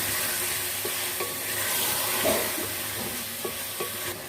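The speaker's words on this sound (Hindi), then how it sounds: "दही को गोश्त में मिक्स कर देते हैं।" Yogurt is stirred into mutton in a hot pot for aloo gosht, giving a steady sizzle beneath occasional spoon scrapes and soft knocks against the pot.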